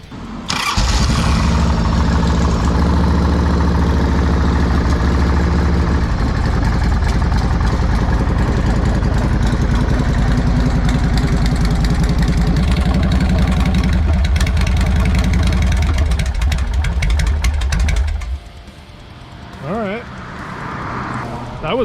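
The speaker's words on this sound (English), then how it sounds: "let's start this bad boy" A chopper motorcycle engine cranks and fires into a loud, rough, close idle that rumbles steadily for most of the time, then drops off, with someone speaking near the end.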